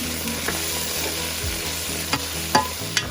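Bamboo shoot (labong) sizzles steadily in a pan with a continuous hissing fry, while a few scattered utensil taps and scrapes from stirring cut through near the end, close and with no talking.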